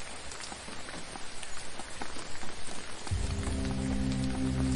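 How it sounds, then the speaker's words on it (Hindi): Steady rain falling and pattering on surfaces, a dense hiss of drops heard alone, with a low droning tone joining in near the end. "बारिश के मौसम का मजा ले रहे हो?"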